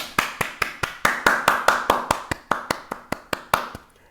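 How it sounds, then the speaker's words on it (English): A single pair of hands claps in a steady, evenly spaced rhythm, about a dozen sharp, close claps alone with no voices. "Round of applause."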